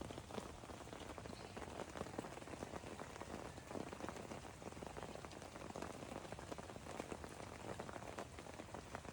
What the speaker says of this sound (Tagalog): So, I'm gonna show you yung tsura ng lake na ulan.